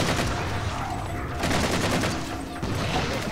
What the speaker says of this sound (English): That was a homing in friggin' fuel rod.